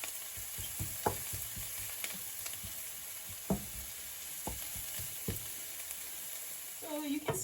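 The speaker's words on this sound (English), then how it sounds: "So you can see my onions and garlic here sauteing down nicely." Onions and garlic saute in garlic butter over low heat for a garlic butter mushroom dish, giving a steady soft sizzle broken by a few sharp clinks and scrapes of stirring, close and moderately quiet, with no talk.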